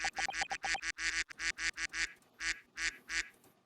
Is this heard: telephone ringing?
no